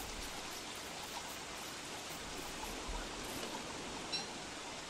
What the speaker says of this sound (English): hope that this rain ends soon